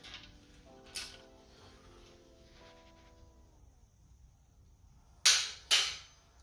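A torque wrench set to 60 foot-pounds on the main bearings of a forged Ford Focus engine rebuild gives sharp metallic clicks, one early and two loud ones in quick succession near the end, over quiet background.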